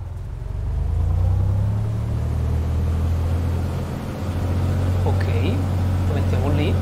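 A light aircraft's engine runs up steadily at 1800 rpm, a loud, close, continuous droning rumble with a slight dip partway through, while a person talks over it.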